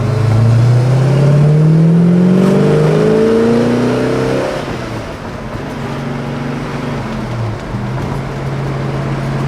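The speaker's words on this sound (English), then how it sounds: "Nice running car." A 1968 Ford Torino GT engine runs loudly up close, its tone rising and falling as it revs, then settles into a steady drone.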